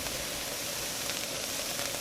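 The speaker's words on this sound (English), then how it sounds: "I put them back in the pan and turn the burner back on" Drained potatoes drying out in a hot pan on a lit burner give a steady, even sizzle and hiss, close and continuous, with no voices.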